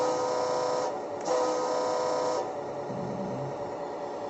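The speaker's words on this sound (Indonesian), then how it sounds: "dan klaksonnya di sini." A 1:12 scale RC Hino 4x2 dump truck sounds its electronic horn in a sustained, buzzy, tonal honk with a short break partway through. It stops after about two seconds, leaving a faint motor hum, heard close with no talking.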